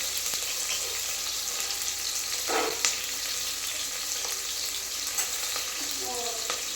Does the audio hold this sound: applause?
no